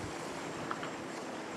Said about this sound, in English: Listen to the sound of the water.